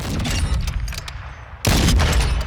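CheyTac M200 Intervention bolt-action sniper rifle with bipod, fired in Call of Duty Modern Warfare II: loud, dense gunfire and booming rumble throughout, with a sharp heavy blast striking partway through and its roar sustaining to the end.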